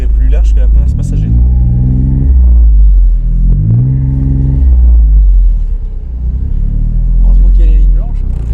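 Honda Beat midship kei car engine while driving, a loud droning rumble that rises and falls with revs through gear changes, heavy in the lows, with someone talking over it throughout.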